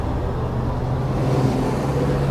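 A car passes on a road in the small town of Alderson, West Virginia, a steady, fairly close engine and tyre rumble that holds even for a couple of seconds with no voices.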